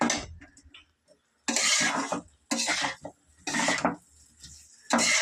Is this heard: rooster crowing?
no